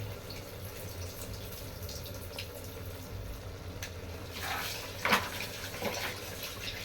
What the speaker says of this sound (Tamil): அதுக்குள்ளே நம்ம அந்த கறி தண்ணியை வந்து கொஞ்சம் அலசி கீழே ஊற்றிட்டு வந்துடுறேன்.